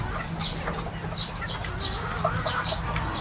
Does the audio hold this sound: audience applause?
no